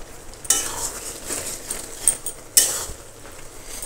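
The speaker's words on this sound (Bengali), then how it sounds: "লবণটা অ্যাড করে দিয়ে দেবো। দিয়ে একটু নাড়াচাড়া করে নিয়ে নেব।" Jujube pickle being stirred with beet salt and white salt in a pot, giving soft scraping and clinking strokes with two sharper utensil knocks, close up and with no talk.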